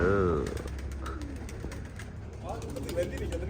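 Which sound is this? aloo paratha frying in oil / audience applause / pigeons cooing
pigeons cooing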